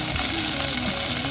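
Onions with large dried red chilies sautéing in a pan for a Tamil anchovy fish sothi, a steady close sizzle and crackle of frying with no one talking.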